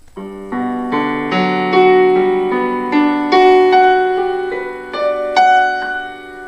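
Piano notes struck one after another, climbing step by step into higher registers, each ringing briefly before the next, clear and close.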